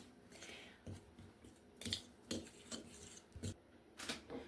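A fork cuts cold butter into flour in a bowl for a sourdough cinnamon cereal dough, giving repeated soft scraping and clinking strokes in an uneven rhythm, close and fairly quiet, with no talking.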